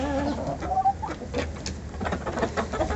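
Leghorn roosters fighting, with a busy flurry of clucks, squawks and scuffling in a poultry enclosure, steady and fairly close with no pauses.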